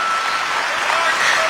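An audience at a poetry recital breaks into loud, dense applause that fills the whole moment without pause.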